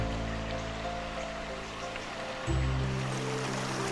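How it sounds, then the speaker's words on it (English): A river in Victoria's High Country flows past a campsite with a steady, soft rush of water that stays fairly quiet throughout, broken by a low thump partway through. "We found camp by the river"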